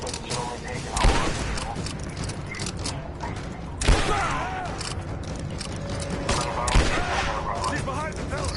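Scattered gunfire in the video game Rise of the Tomb Raider, with several sharp shots and bursts spread across the scene over a dense background of rumble and mechanical clatter, and voices speaking intermittently.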